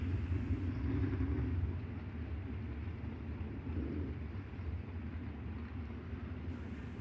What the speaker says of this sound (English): Next group of cars out to the Speedway